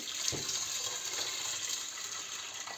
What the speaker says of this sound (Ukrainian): сухий горох заливаємо холодною водою